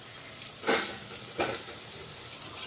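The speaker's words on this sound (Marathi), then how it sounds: "आता हे आपले पोंगळ्या तळून घ्यायचे आहे तेलामध्ये" Stuffed pungali, a spiced Maharashtrian stuffed fritter, frying in hot oil in a cooking pot, with a steady soft sizzle and two brief louder bursts as pieces hit the oil.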